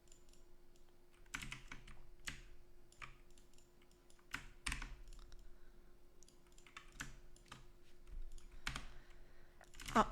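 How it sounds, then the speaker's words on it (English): Someone types on a computer keyboard: soft, irregular clicks and key taps come in bursts against a quiet background, close to the mic, with no talking. "I'm on my keyboard, I'm pressing R"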